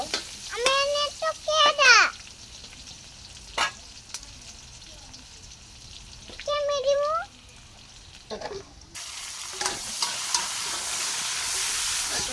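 Chopped onions sizzle in a pan of hot oil, a low frying hiss under bursts of nearby voices, with the sizzle swelling louder and brighter toward the end.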